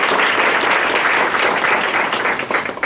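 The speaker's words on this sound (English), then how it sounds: "So a very tremendous round of applause for her" A live audience applauds at a university book talk on Black Greek letter organizations, with dense, steady clapping that fills the room and thins slightly near the end.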